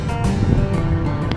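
Light wind buffeting the microphone in a low, continuous rumble, with open-water ambience behind it, aboard a barge on a sunny day.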